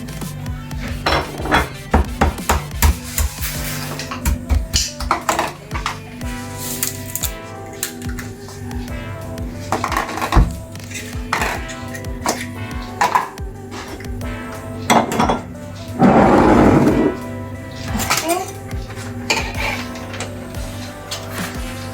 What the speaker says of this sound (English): we need to mix it very good